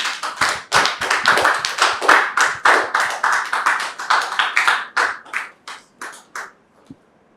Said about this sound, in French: Merci de recevoir Dame Georgette sous vos applaudissements,